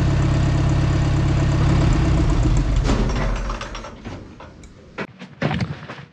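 Engine of a 1970 swather running loud and steady, then dropping away and shutting down, followed by a few knocks and clunks nearby.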